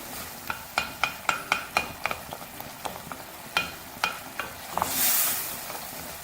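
Masala for dal fry frying and stirred in a pan, a steady sizzle broken by a dozen sharp, regular spoon scrapes and taps against the pan, close and clear, ending in a brief louder hiss.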